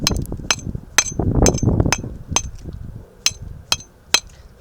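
A hammer strikes a chisel to chip a brick for a mailbox project, sharp metallic clinks repeating close by, first in a dense cluster and then as spaced, separate blows.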